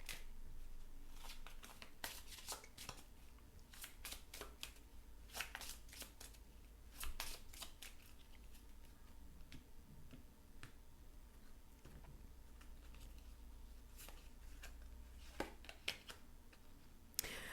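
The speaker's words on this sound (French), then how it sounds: "on va tirer une carte" Tarot cards shuffled and drawn by hand, a faint close run of crisp riffles and sharp flicks with quiet pauses between, no voices.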